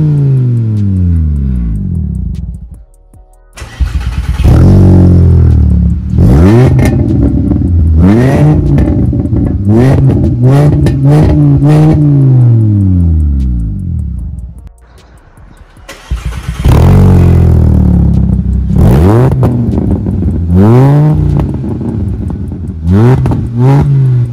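A sports car exhaust roars through repeated loud revs with rising and falling engine pitch, close by, pausing briefly between two bursts of revving.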